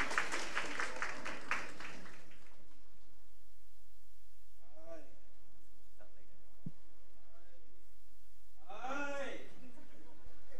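At a church building-fund offering service, the audience gives a short burst of clapping that fades within about two seconds, followed by quieter voices speaking.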